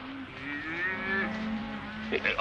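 Cattle mooing on a western range, a drawn-out low moo with harmonic overtones lasting about two seconds, moderately loud and near, followed by a brief higher bleat at the end.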